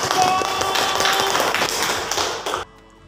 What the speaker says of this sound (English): clap your hands for your friends today